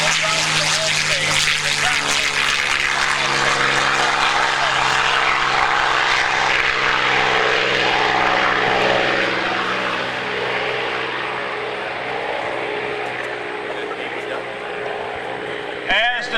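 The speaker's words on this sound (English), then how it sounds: "the sound of the Rolls-Royce Merlin engine built by the Packard Motor Car Company in Detroit, Michigan, fades off" A Packard-built Rolls-Royce Merlin piston aircraft engine roars past in a long airshow flyby, loud and throaty at first, then gradually fading into the distance.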